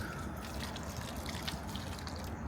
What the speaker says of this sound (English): and there it goes, automatically throwing water